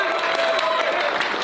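Brief burst of clapping and cheering from a group of people during a livestream, dense and continuous for a moment with voices mixed in.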